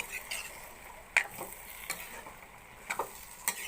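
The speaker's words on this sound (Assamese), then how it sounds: "মাংসটো অকণমান লৰাই দিওঁ" Goat meat frying in a pot as it is stirred, a soft continuous sizzle broken by several distinct scraping and clinking strokes of the spoon against the pot.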